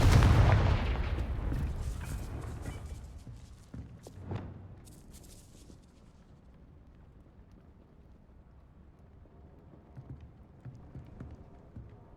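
The Confringo blasting spell is cast in Hogwarts Legacy, giving a heavy burst near the start that rumbles away. A smaller boom follows about four seconds later, then the action fades into quiet with light scattered effects.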